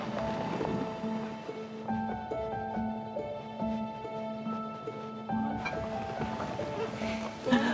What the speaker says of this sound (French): Des compliments laissent la place au bruit de moteur